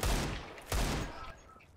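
Gunfire in the CS:GO video game: two sharp broadband bursts about 0.7 seconds apart, loud and close, each trailing off into a decaying rumble.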